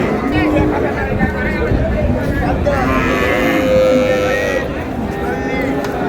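A cow with her calf at a rural cattle market in Dinajpur lows amid a busy crowd, long moos rising over constant babble of voices and background noise.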